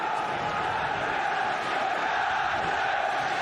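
Football crowd at a 2006-07 Premier League match between Sheffield United and Wigan Athletic: a dense, continuous roar of chanting and shouting fans, steady in level throughout.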